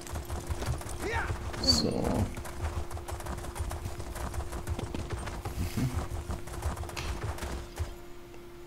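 Horse hooves clip-clopping at a steady riding pace in Elder Scrolls Online, in Elsweyr, a soft rhythmic patter under a low constant hum, with a brief spoken word and some game sounds early on.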